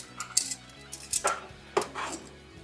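Wet yarn being moved from one dye pan into another during yarn dyeing, giving a few scattered clinks and scrapes of metal pans and utensils, close and fairly quiet.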